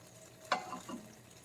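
Bechamel sauce being stirred into a pot on medium heat for mac and cheese, a single close scrape of a spoon followed by soft wet swishing, brief and fairly quiet.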